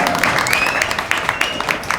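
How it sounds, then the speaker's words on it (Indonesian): A short burst of lively crowd applause for Pak Waket at a performing-arts event in Wonosobo, with dense clapping and a few thin whistle-like tones riding on top. "Ini tepuk tangan yang meriah untuk Pak Waket."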